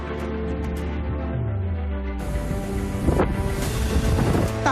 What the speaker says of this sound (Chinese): 大风吹，吹到什么都会晃。